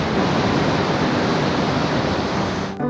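Atlantic ocean surf at Praia de Benagil beach in the Algarve, a loud continuous wash of breaking waves filling the scene, alone without voices, cutting off abruptly near the end.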